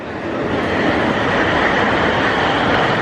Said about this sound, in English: So here's the train arriving.